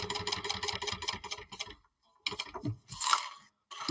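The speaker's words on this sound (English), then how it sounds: "And I'm sewing up." A sewing machine stitches a bag in quick bursts of rapid mechanical chatter, stopping briefly and then starting again, close and fairly loud with no talk over it.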